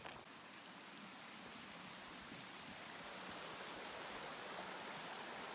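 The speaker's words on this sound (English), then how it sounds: "This is Mud Springs Creek." Mud Springs Creek flows in a spring mountain setting, a steady, even rush of water that stays constant and fairly faint throughout, with no voices.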